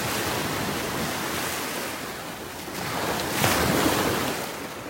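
Ocean surf along a beach in North Naples, Florida rolls and splashes in a steady broadband wash, swelling louder as a wave breaks near the end, with wind noise mixed in.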